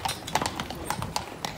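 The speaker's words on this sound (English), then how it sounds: "Look at these beautiful horses." Hooves of dressed-up horses clip-clop on a city street, the steady rhythmic clatter close and prominent over a busy outdoor background.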